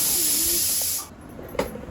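A pressure cooker releases steam in a loud, close, steady hiss that cuts off after about a second, followed by quieter room sounds and a brief clatter.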